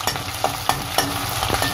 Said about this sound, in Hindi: इनको गोल्डन ब्राउन होने तक हम भून लेंगे